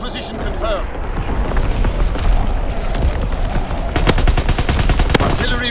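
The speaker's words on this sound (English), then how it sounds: "Sending mortar rounds, zone and sweep. Firing battery one, target position confirmed." Mortar and artillery barrage in the World War II shooter Call of Duty WWII, a continuous din of booms and gunfire with a dense burst of rapid blasts near the end, under radio-style voice callouts.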